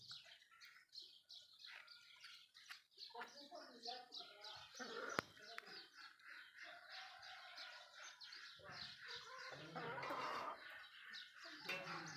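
Aseel chickens and a rooster cluck and chirp in a busy coop while eating grain, with people talking over the birds throughout.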